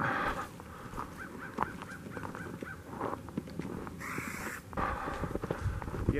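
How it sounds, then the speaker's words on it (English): Crows caw in a short repeating run in woodland, moderately close and fairly loud, with footsteps and rustling on the trail underneath and no talking. "There's the crows."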